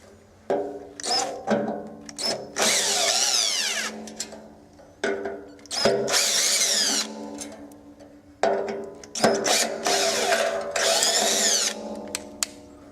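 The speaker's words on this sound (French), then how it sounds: "Alors on va dévisser les 3 vis." A power screwdriver backs out three screws from a metal strike plate on a swinging gate, its motor whining in three separate loud bursts with short pauses and clicks between them, no talking.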